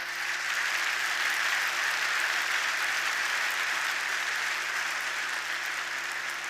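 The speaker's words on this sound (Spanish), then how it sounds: "quiero dar un aplauso" Audience applause during a Spanish-language education panel discussion, a steady dense wash of clapping that fills the whole stretch evenly at moderate level, with no voices over it.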